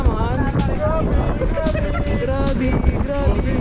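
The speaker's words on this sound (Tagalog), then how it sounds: "pero sobrang lakas ng hangin ngayon dito guys" Strong wind gusts at a seaside beach buffet the microphone with heavy, continuous low rumbling while people talk loudly over it throughout.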